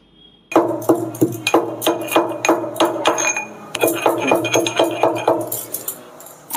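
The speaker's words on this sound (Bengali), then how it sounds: "চারটে গোটা এলাচ নিয়েছি এটাকে ভালো করে থেতো করে গুঁড়ো করে নিচ্ছি" Four whole cardamom pods are crushed into powder by hand for a sweet dish. Close, rhythmic pounding knocks come in quick regular bursts, with a brief pause partway through.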